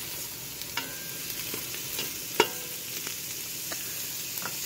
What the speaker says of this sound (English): you're just gonna cook this until the sausage is brown on all sides